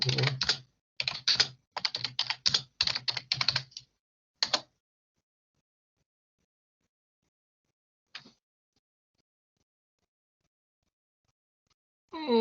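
Fingers type a prompt on a computer keyboard, giving quick bursts of close, crisp key clicks for about four seconds. One final isolated tap follows, then long silence broken by a single faint click and the start of a voice.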